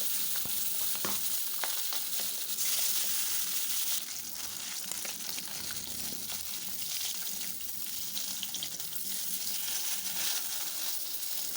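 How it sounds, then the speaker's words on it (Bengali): Pabda fish fry in hot mustard oil in a pan, giving a loud, continuous, crackling sizzle that lasts the whole time with no voices. "এবারে মাছগুলো আমি ভেজে নেব"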